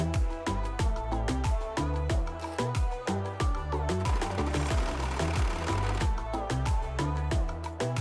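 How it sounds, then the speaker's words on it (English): Sewing machine running a zigzag stitch over fold-over elastic binding, a steady fast mechanical chatter of needle strokes with even rhythm, close and continuous without talk. "We are using a zigzag stitch and start sewing."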